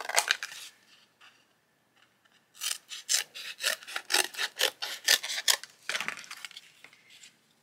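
Junk journal spine material being cut to size with scissors: a burst of close rasping snips, then a quick rhythmic series of crisp cutting strokes, alone without talk.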